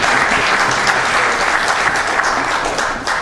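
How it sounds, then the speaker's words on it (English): A city council meeting audience gives a big round of applause for a guest called to the podium: dense, loud clapping from a room full of people, holding steady for about three seconds and easing slightly at the end. "Let's welcome her with a big round of applause."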